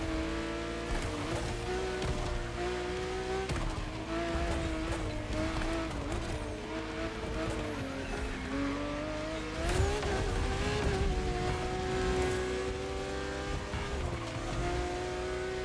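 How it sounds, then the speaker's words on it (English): Game race cars, a Lamborghini Aventador against a Koenigsegg Jesko, roar continuously with engine pitch rising and falling through gear changes, with occasional tire squeal and a passing surge. "An Aventador competing against a Jesco."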